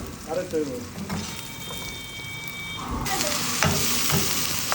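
Tengra fish fry in a pan in a home kitchen in Saudi Arabia, the sizzle swelling louder midway amid stirring clatter, with some faint voices and a brief electronic beep in the background.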